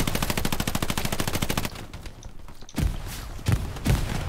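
Gunfire in the WWII shooter Hell Let Loose: a rapid machine-gun burst rattles loudly for over a second, then after a lull come several heavy, separate shots and thumps, some close and some further off.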